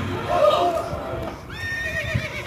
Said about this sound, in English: Yes, I'm riding on a horse.